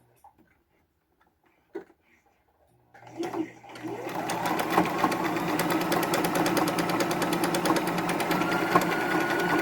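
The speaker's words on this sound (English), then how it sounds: "I'm going to zigzag stitch all along this edge to keep this from unraveling" A sewing machine starts after a few seconds of quiet and runs steadily, zigzag stitching along a denim jeans edge, its rapid needle ticking close and loud, with a faint voice at the start.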